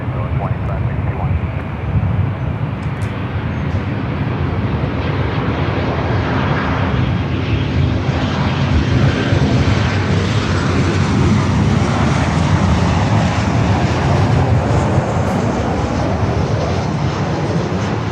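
A Delta Boeing 737-900ER airliner arrives at LAX, its jet engines roaring loudly and steadily for the whole stretch, a broad continuous rumble with faint radio talk beneath it.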